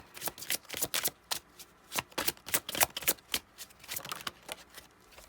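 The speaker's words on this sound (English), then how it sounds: "Couple cards flipping out here." A deck of tarot cards is shuffled by hand, a quick run of crisp riffling bursts and snaps close by, with a few cards slipping out, no voices over it.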